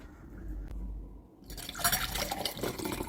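Water poured into a glass for mixing creatine monohydrate, a quiet stretch followed by a sudden bright splashing pour that runs on unevenly to the end, with no talking.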